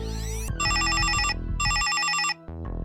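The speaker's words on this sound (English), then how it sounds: "Mr. Manager is interrupted by the teeny sound of a cell phone ringtone." A cell phone ringtone in the video game Runaways, a bright electronic warbling melody that plays in two clear bursts with short pauses, loud and alone.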